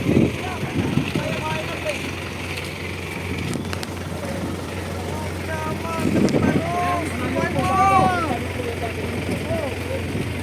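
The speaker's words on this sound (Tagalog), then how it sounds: "Lakas ng hangin nito" Strong wind buffets and roars across the microphone throughout, with an engine droning steadily underneath.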